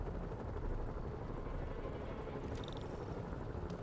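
Helicopters hover in the Spider-Man Remastered video game, giving a constant, dense low rumble with a faint higher whine above it and no clear change in distance.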